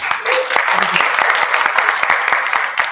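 Audience at a college panel discussion and screening clapping in a brief round, dense close handclaps that rise quickly and hold at a steady level before tapering near the end.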